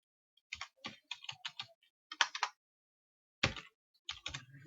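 Keys tapped on a computer keyboard while typing text into Photoshop CS6, heard as short close clicks in small quick bursts separated by brief pauses, faint and alone.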